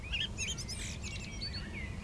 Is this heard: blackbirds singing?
yes